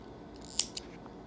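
Scissors cut crochet yarn with a single crisp snip close to the microphone, followed by a softer second closing click, over low steady background hiss without speech.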